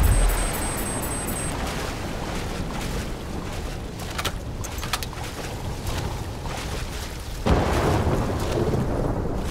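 A superstorm in Call of Duty: Black Ops III brings dense, constant rain and rumbling thunder, with a loud crack and heavier downpour late in the clip and brief electronic beeps at the start.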